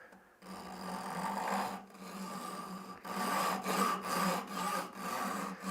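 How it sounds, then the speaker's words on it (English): Japanese back saw with very fine teeth cutting wood during an old rusty hammer restoration: close, rhythmic rasping strokes, several back-and-forth passes with brief pauses, no voice. "I'm going to use my Japanese back saw here"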